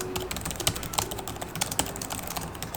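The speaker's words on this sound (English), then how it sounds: "There's a good amount of key travel on the keyboard and it's nice to type on." Typing on the keyboard of a Gigabyte Aero 15 OLED laptop from 2020: a quick, steady run of close, crisp key clicks with a few louder taps, heard alone without talk.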